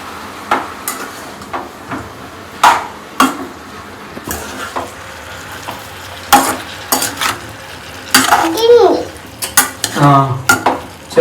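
A spoon stirs and scrapes brinjal and tomato pieces around a pan for curry, with clinks against the metal, a soft sizzle beneath and irregular bursts of scraping, close and fairly loud.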